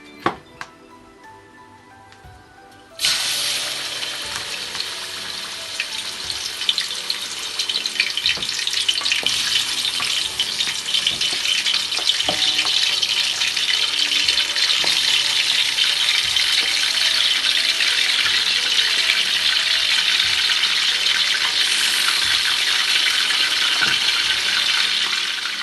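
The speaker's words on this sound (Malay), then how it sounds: "seterusnya kita goreng ayam separuh masak" Chicken pieces fry to half-cooked in hot oil for Malaysian chicken kuzi, a sudden loud hiss rising to a steady, dense sizzle with scattered crackles that continues without talk.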